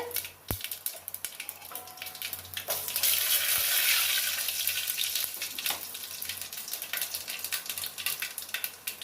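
Mustard seeds and urad dal hit hot oil in a pan, bursting into a loud, bright sizzle that swells mid-way and then settles into steady crackling with scattered pops.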